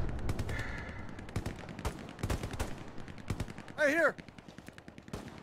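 Rapid video-game gunfire crackles in bursts amid frantic live-stream gameplay, with a player shouting over the shots and a short electronic warble partway through.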